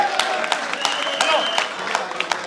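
Scattered audience clapping at a Punjabi comedy stage drama, with uneven bursts of claps and crowd noise under a faint voice and tone.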